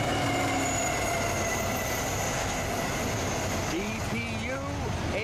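A CSX freight train rolls past on elevated tracks with a steady rumble and clatter, wheels squealing faintly in the last seconds, and a voice is heard over it.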